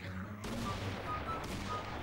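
Weak free gun firing in Minecraft during a zombie apocalypse map, a dense fusillade of soft shots starting sharply after a brief pause and continuing steadily to the end.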